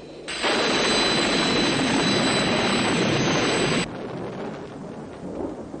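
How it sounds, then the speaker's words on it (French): Heavy thunderstorm roar from a 1968 Thunderbirds film with Lady Penelope, a loud, steady rumbling wash of storm noise that drops off abruptly partway through, leaving a quieter lingering rumble. "On dirait que l'orage redouble de violence."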